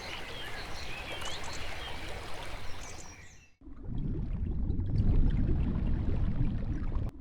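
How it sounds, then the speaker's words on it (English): Water trickling and flowing in a Maasai Mara river, a soft bubbling stream with faint bird calls early on, shifting after a brief drop to a fuller, louder rushing flow, no voices. "only the sound of water trickling and the shimmering light through the river surface"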